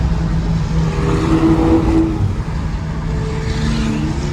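A straight-piped V12 exotic car revs hard during an exotics rally in Texas, a loud, raw engine drone that swells and pulls with shifting pitch for several seconds, close and continuous.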